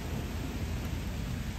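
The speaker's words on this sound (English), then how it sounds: "And it's raining." Tropical rain falling outdoors at a high lookout in Hawaii, a soft, steady wash of noise with a low rumble underneath, faint and even from start to finish.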